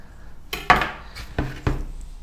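Chopped tomato is tipped from a board into a bowl of marinade, giving a few sharp clattering knocks of a knife and board against the bowl, close and clear, with brief pauses between them.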